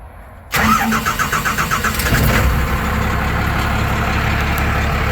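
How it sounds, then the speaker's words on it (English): A Cummins 12-valve diesel swapped into a ramp truck cranks with a rhythmic, chugging starter, catches loudly and settles into a steady, rumbling idle close by. "But I can go ahead and start the motor for you here and let you listen to it."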